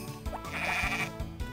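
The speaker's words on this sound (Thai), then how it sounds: "แกะ" A sheep in the Harvest Moon farming game gives one clear, close bleat lasting over a second, with looping background game music underneath.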